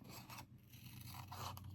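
Soft, close scraping and snipping of scissors fussy cutting paper for a card, in short uneven bursts with no talking.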